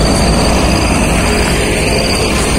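Train passing near the Citiis bridge in Garut, heard as a loud, continuous rumble of rail cars rolling steadily throughout with no voices.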